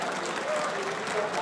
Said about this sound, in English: The crowd is already clapping for him.